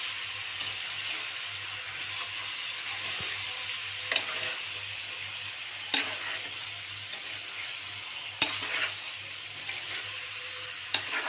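Country chicken curry with coriander powder and garam masala stirred in a pan, a soft continuous sizzle under occasional sharp scrapes and knocks of the spoon against the vessel, close and moderately quiet.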